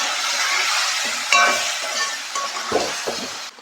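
Crab roast masala frying in a pan while being stirred, a loud close sizzle broken by spoon scrapes and light clinks against the pan.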